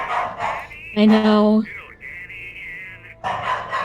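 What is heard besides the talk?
dogs barking in the video game Alan Wake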